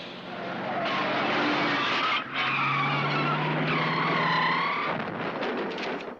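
Cartoon flying car skidding, a loud bright tire screech with wavering squeals that runs for about five seconds before cutting off.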